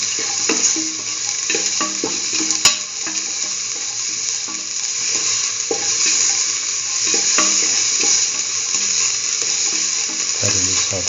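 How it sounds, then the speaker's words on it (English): Curried mustard chayote and bell pepper stew sizzles steadily in a pan while being sautéed and stirred, with a continuous frying hiss broken by repeated scraping and clacking stirring strokes, close and fairly loud, with no talking. "thoroughly saute and mix the"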